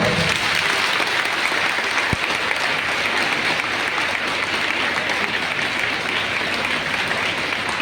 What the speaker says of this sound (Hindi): अपने स्थान पे खड़े होकर और जोरदार तालियों के साथ आपका स्वागत हो